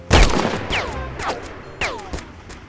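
Gunfire in the shooter game WAR Inc., several sharp shots in quick bursts, each with a brief whizzing ring-off, moderately loud with no talking.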